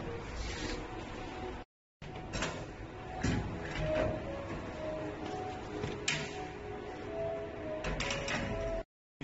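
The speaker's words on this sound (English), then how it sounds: "the locker will open. The receipt will come out." A cooling locker vending machine with a card reader unlatches its locker door and then prints a receipt, giving mechanical clunks and a whirring, ticking printer run over a steady machine hum.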